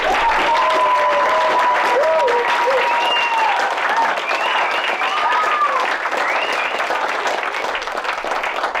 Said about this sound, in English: Let us give you one more round of applause.